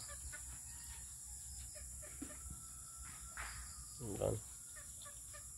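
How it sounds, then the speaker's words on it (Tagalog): A rooster gives a short, sharp call amid quiet farmyard background with faint insect chirps, and a person says a brief word. "Ito yung mga tandang ko."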